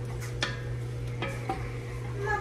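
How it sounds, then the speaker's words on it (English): A little spatula stirring strawberries in a pot, a few soft scrapes and clicks against the pot over a constant low hum. "I am going to take this little spatula here and kind of just mix a little bit."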